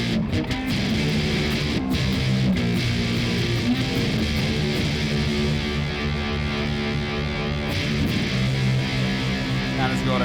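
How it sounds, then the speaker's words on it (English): Heavily distorted electric guitar through an Animal Factory Amplification pedal combining fuzz and drive plays thick, buzzing chords and riffs continuously, loud and saturated with fuzz and overdrive. "This is a fuzz and a drive all mixed in together."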